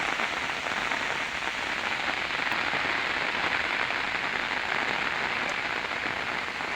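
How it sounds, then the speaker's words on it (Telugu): Steady, dense heavy rainfall pours down continuously in Kadthal, India, a loud even hiss of drops hitting surfaces with no voices. "ఆ సౌండే భలే విచిత్రంగా అనిపిస్తుంది వర్షం నిజంగా"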